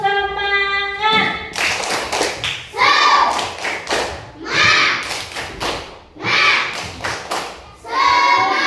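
Schoolchildren in a classroom chant the 'tepuk semangat' clapping routine: loud, close bursts of rhythmic hand claps and thumps alternating with shouted chanted lines.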